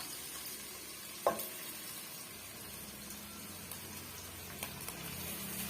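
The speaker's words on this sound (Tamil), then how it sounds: "நல்லா சிம்ல வச்சு நம்ம வந்து வதக்கி விட்டுக்கலாம்" Rice being stirred and sautéed in a pan for lemon rice, a quiet steady sizzle with soft scraping and one sharp clink of the spoon, no talk.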